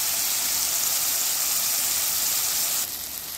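Chopped tomatoes, turmeric and a small piece of cinnamon sautéing in hot oil for a green bean curry, giving a steady, close, broadband sizzle that holds evenly and drops slightly in level near the end.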